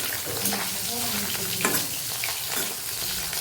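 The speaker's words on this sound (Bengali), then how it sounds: "তো আমার এদিকে আর মাছ ভাজাও চলছে" Fish fries in hot oil in a pan in a Bengali home kitchen, a steady close sizzle and spatter with brief crackling bursts throughout, no talking.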